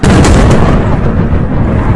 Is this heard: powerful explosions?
yes